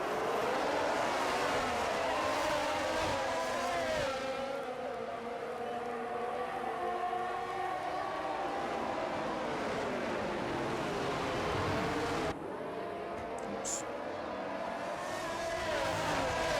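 Formula 1 race cars in the F1 22 video game roaring off the line at Bahrain, a dense layered engine whine with rising and shifting pitches, steady and loud throughout, with a brief break near the end.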